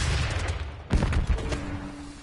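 A flashbang grenade bursts amid gunfire in a Call of Duty match, with one sharp blast over a dense, steady rattle of shots that carries on through the moment.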